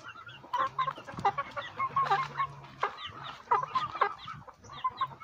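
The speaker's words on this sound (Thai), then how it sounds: "นี่ครับผมพามาเบิ่งไก่นะครับ" Chickens cluck in short repeated bursts at a home yard, several birds close by with irregular rhythm and a few sharper calls, no talk.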